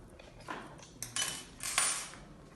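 Small metal Allen keys clink and rattle as they are unpacked from a Creality Ender 3 V2 3D printer tool kit, with a few separate, close, light metallic jingles and no talking.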